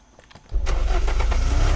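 In the video game Unturned, a car engine turns over about halfway through and settles into a loud, steady rumbling idle close by, with faint clicks beforehand and no talking.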